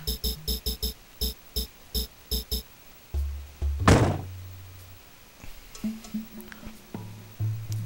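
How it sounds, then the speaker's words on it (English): A car trunk slams shut in the video game Parasite Eve 2: one heavy, close thunk midway through, following a run of rhythmic electronic game beats and giving way to quieter low tones. "She closes that trunk with a purpose"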